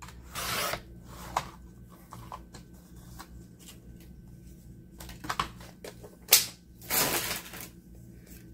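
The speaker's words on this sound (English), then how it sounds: "you can just literally fold it in half, or you can score it" Paper is folded in half and creased, making soft rustles and brief scraping rubs in scattered bursts over a quiet background, close to the listener.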